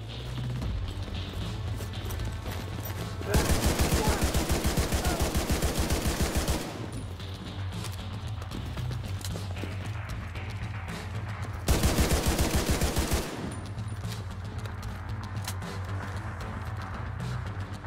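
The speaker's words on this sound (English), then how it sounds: "Massive recoil on this fucking auto rifle." Auto rifle fire in a PC shooter game comes in two long, loud, rapid bursts of several seconds each, set over a steady low background hum with quieter stretches between them.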